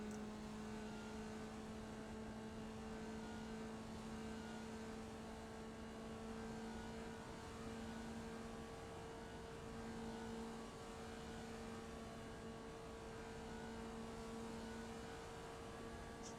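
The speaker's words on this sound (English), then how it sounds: "Screaming this little car now in the third gear." Formula Vee race car engine screaming at steady high revs in third gear, a loud, continuous close-up drone with sustained tonal whine throughout, no talking.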